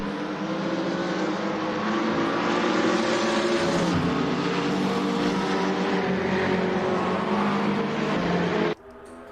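A GT3 race car laps during a qualifying session, its engine droning loud and steady with a shifting pitch before the sound cuts off abruptly near the end.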